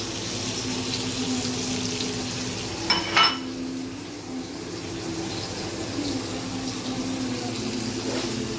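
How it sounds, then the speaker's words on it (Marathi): Pieces of pomfret fish fry in a pan, a continuous close sizzle and hiss with a brief metallic clatter partway through and another light knock near the end. "सगळ्या हलव्याचे तुकडे गेलेले आहेत पॅनमध्ये."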